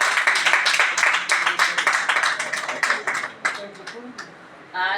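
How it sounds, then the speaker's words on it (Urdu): A church congregation claps loudly and rapidly. The applause thins and fades over a few seconds, and a voice comes in at the very end. "خدا کے کلام کے لیے زوردار تالیوں کو بجائیں گے۔"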